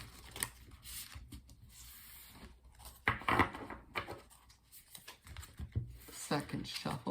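A deck of tarot cards is shuffled close up in a quiet room, giving short bursts of crisp riffling and sliding paper rasps separated by brief pauses.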